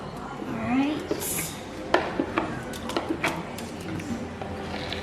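A spoon scrapes sticky homemade marshmallow mixture out of a bowl in a home kitchen, giving a series of short, close scraping clicks under quiet talk.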